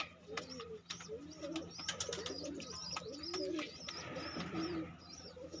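Pigeons cooing repeatedly at close range, soft low rolling coos overlapping with a few faint chirps and small background clatter, no talking.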